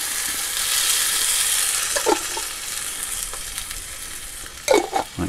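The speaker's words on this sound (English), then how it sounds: "I'm going to pour that" Sweet chili sauce thinned with water hits a hot frying pan, giving a steady broad sizzle throughout, with a few short clinks and scrapes of utensils near the end; no one speaks.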